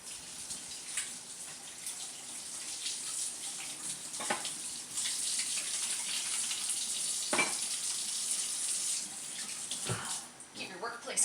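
Tap water runs steadily into a sink while hands are washed in a kitchen, a continuous close hiss with brief splashes and rubbing sounds, and a voice speaks faintly underneath.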